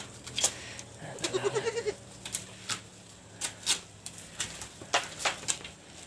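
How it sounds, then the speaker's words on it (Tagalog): A goat bleats briefly amid scattered clicks and crunching sounds of goats eating bananas, with faint rustling and outdoor ambience around it. "Yan po mga kambing natin."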